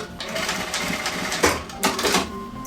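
A sewing machine stitches ribbon onto bloomers in quick whirring bursts, the motor rising and pausing between runs while a person talks over it.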